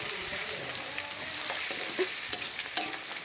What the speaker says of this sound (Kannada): ಹಾಗೆ ಇಲ್ಲಿ ಈರುಳ್ಳಿ ಫ್ರೈ ಆಗ್ತಾ ಇದೆ